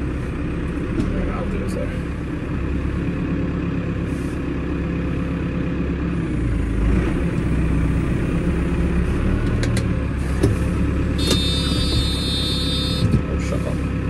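Steady low rumble of a 6265 tractor engine driving into a shed, loud and continuous with a few clanks, while someone speaks briefly over it.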